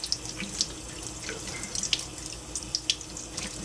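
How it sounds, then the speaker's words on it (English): Cool tap water runs steadily into a sink to rinse brine shrimp, a constant close splashing stream with scattered bright drips and spatters throughout, no voices. "you're just going to rinse the brine shrimp before you feed them to your fish"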